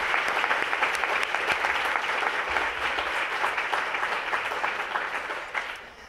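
Steady applause from an audience at a school luncheon, sustained clapping throughout that fades slightly toward the end.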